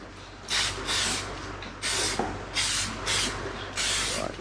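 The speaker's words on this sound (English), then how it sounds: "Just going to use silicone spray as the releasing agent on the ends that we're going to remove afterwards." Silicone spray used as a release agent while repairing a boat heat exchanger, five or six short hissing bursts of about half a second each with pauses between, close and loud over a low background hum.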